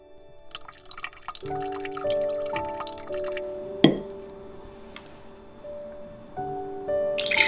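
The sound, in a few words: straining leftover pork broth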